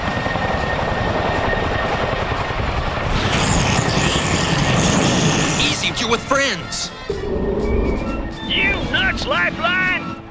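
G.I. Joe Tomahawk helicopter in flight, a loud steady rotor thrum and engine roar that keeps going under gunfire and voices, then gives way to a whining, warbling effect near the end.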